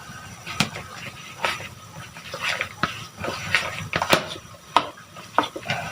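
Leftover cooked rice is added to a pot of boiling water for lugaw and stirred, giving repeated scraping, sloshing strokes at an uneven pace, close and moderately loud.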